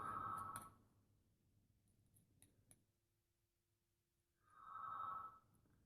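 A landline telephone rings twice in a quiet house, one short electronic trill at the start and another about four seconds later, with faint clicks and a soft tone in between.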